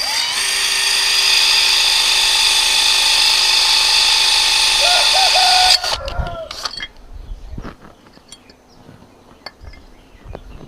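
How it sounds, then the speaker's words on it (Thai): A power drill in normal, non-hammer mode bores into ceramic tile with a loud, steady high whine for several seconds, then stops abruptly, followed by clinks, handling knocks and someone talking. "ครับก็เจาะโหมดธรรมดาเจาะเจาะง่ายมากนะครับเจาะกระเบื้องแบบนี้เจาะง่าย"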